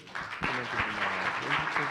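An audience at the GGX Finance Summit 2025 applauds the panelists after a panel discussion: steady, dense clapping from a crowd that lasts the whole stretch.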